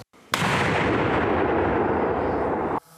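A single heavy, sustained blast of mortar fire rumbles loudly for about two and a half seconds, then cuts off abruptly.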